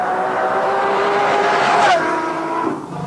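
Enzo Ferrari sports car at full throttle on a test track, a loud rising engine howl with strong harmonic tones climbing in pitch, briefly dipping near the end as it shifts and pulls on.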